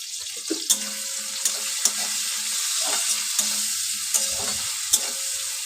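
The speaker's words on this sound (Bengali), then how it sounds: "টমেটোটা নরম হওয়া অবধি আমি একটু ভেজে নেব" Tomatoes frying in a pan with turmeric and salt for a moong dal with bottle gourd, a soft continuous sizzle broken by occasional clinks and scrapes of a stirring spoon, with no talking.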